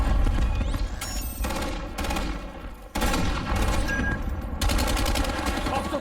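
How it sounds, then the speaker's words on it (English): Sustained automatic gunfire from Black Ops 7 beta multiplayer, loud and dense with rapid bursts across the whole stretch, briefly easing before fresh volleys resume. "My bullets just went straight through him."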